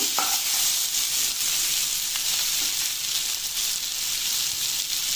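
Smashed garlic pieces and bottle gourd fry in a pan, giving a steady, close hiss of sizzling that holds constant throughout, with no voices.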